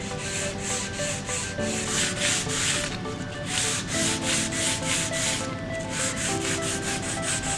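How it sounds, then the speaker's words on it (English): Rhythmic back-and-forth sanding of a molded carbon fiber seat post to a dull finish, loud and close, each stroke scraping in a steady repeating cadence with short pauses. "sand it down to a nice dull finish so you take all the mold release off that carbon"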